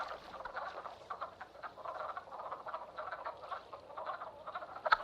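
A chorus of mating frogs croaking continuously in spring in Shenandoah, many overlapping pulsing calls forming a dense, moderately loud rhythmic din.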